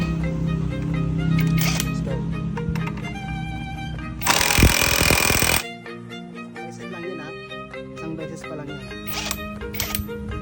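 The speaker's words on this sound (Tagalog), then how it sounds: "kapag hindi na umiikot ng impact wrench, ibig sabihin, goods na yon" An impact wrench tightens bolts on a Yamaha Nmax scooter in one loud, dense burst of about a second and a half, heard between stretches of someone talking over background music.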